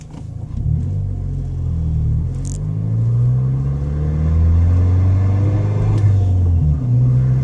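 A Ford Fiesta ST engine fitted with a 2J intake hums at light throttle, a close, steady low drone with gently rising and falling tones and a few faint clicks, no voices.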